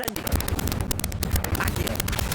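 A fire spell cast in the video game Hogwarts Legacy, a dense, rumbling burst of crackling, booming effects that roars continuously for a couple of seconds.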